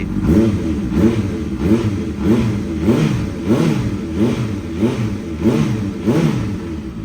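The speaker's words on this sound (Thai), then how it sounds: "เดี๋ยวผมสตาร์ทให้ฟัง สตาร์ทง่ายนะครับ" A Honda CBR650F motorcycle registered in 2014 with an aftermarket exhaust runs loud and close. Its engine note rises and falls in regular pulses about every second, with no voices.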